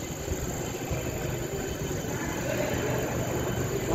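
A tram passes along a street at night in Istanbul, a steady low rumble of wheels and motor under diffuse city noise, moderately close and continuous.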